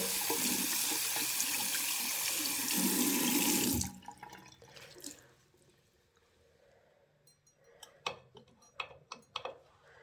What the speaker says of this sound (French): il se lave complètement, correctement à l'eau avec un peu de savon